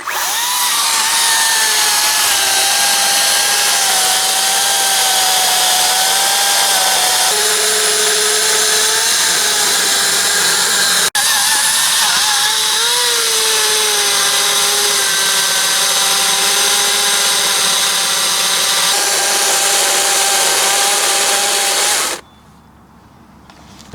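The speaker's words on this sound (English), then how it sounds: "he said he had an electric chainsaw" Electric chainsaw cutting wood, a steady loud motor whine with shifting pitch as the chain bites, running continuously for about 22 seconds before cutting off abruptly.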